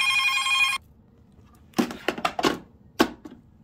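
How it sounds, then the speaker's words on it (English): A telephone rings once in a short electronic burst inside a quiet yarn studio, then cuts off, followed by a few faint taps and knocks nearby. "That's my phone."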